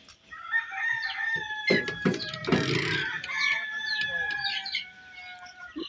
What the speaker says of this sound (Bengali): এইগুলো হচ্ছে ফাউমি মুরগি